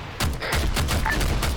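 Incoming gunfire in a military video game, heard as a dense, loud, continuous burst of rapid shots close by with no pause.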